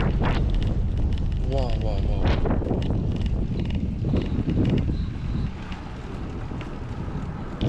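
Strong wind buffets the microphone in a constant roaring rush, with a voice speaking briefly underneath.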